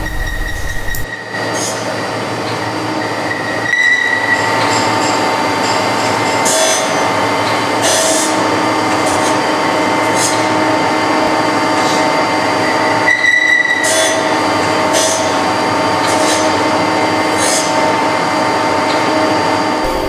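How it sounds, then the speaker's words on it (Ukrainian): A surface grinding machine runs continuously with a steady grinding hum and faint higher whine, broken by a few brief dips and clunks. "на цьому плоскошліфувальному верстаті виконуються роботи з шліфування плоских деталей в ручному режимі"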